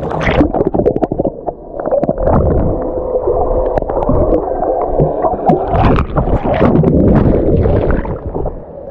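Sea water at Malpe Beach heard while diving under the waves: loud, muffled underwater churning and gurgling with low rumbles and bubbly bursts, continuous throughout, no talk.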